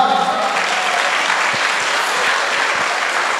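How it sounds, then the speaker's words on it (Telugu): An audience at a family achievers' reunion honoring event breaks into loud, sustained applause, a dense wash of many clapping hands filling the whole stretch without letup. "ఒకసారి బిగ్ రౌండ్ ఆఫ్ అప్లాజ్"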